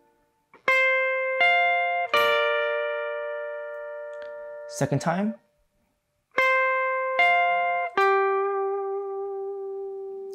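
Single electric guitar notes from a line, ringing and sustained in two short phrases with a gap between, with a brief spoken interjection in the middle.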